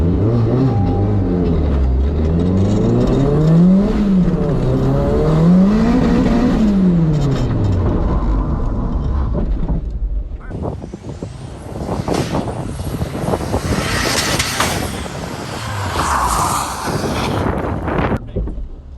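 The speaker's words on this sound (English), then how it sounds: "I'm just gonna try to go 60 miles per hour, and I'm just gonna mat the brake as hard as I can" A car's engine climbs through rising revs and gear changes as it speeds up to 60 mph, then the tone drops into rough, roaring wind and tire noise as it brakes hard until the rear wheels lock, loud and close throughout.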